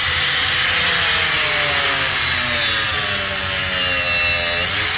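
A Stark AG 20000B brushless angle grinder cuts into a piece of wood, giving a loud, steady high-pitched whine with rising and falling harmonic tones as the blade is pressed, continuous for the whole stretch with no talk.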